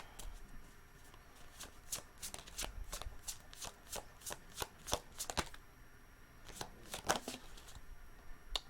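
Tarot cards are shuffled up close, with crisp rapid slaps and riffles repeating in irregular bursts, fairly quiet and with no talking.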